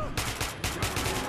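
Rapid bursts of gunfire in the Xbox Series X game Metro 2033 Redux, a quick run of repeated shots fired close and loud with no talk.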